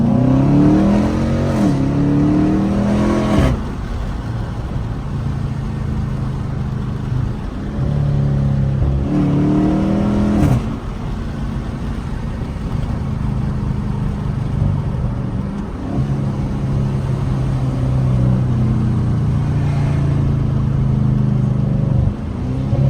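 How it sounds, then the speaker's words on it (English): A Chrysler 300S with a loud exhaust driving backroads with the windows down, steady engine drone and wind rush, with several revving gear shifts rising and falling. "I am gonna have my windows rolled down. And I guess we'll see how the mic quality is with the wind in the background."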